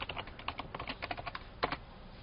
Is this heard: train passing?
no